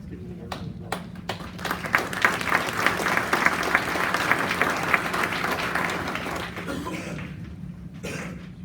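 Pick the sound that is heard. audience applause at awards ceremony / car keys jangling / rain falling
audience applause at awards ceremony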